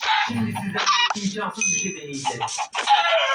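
Chickens cluck in a busy, overlapping chorus close by, with people talking loudly over and between the calls.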